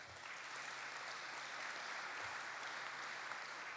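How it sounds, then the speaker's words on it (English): A full room of conference delegates applauds in a steady, dense clatter of clapping that stays even from start to finish, heard alone without talk. "everybody give them a round of applause"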